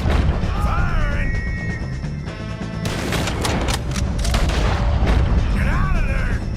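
Red Dead Redemption 2 gunfight: loud cracking shots and booming impacts pile up amid chaotic battle noise, with shouting voices mixed in.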